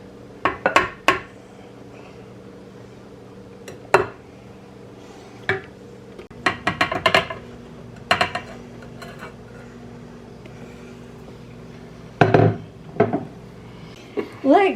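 Flour and baking soda get worked into peanut butter cookie dough in a bowl, heard as scattered clinks and scrapes of utensil on dish in short bursts with quiet gaps between them.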